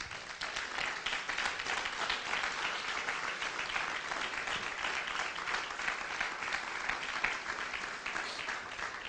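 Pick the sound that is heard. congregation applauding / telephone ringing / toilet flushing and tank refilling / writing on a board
congregation applauding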